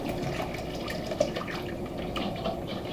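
Water runs steadily from a tap in a continuous, even stream, close by, with no talking.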